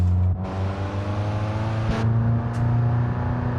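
A Volkswagen Passat engine in the BeamNG.drive driving game, struggling with a fault, hums and revs steadily and loud throughout. Its pitch shifts slightly midway, and there is no talk.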